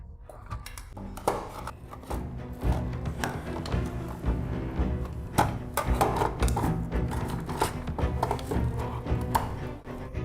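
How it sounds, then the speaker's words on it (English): A screwdriver levered against a loose, insecure door, giving close scraping, creaking and sharp knocking clicks of metal and wood in irregular bursts as it is pried open. "I'll try to use the screwdriver as a lever here. The door is kind of loose."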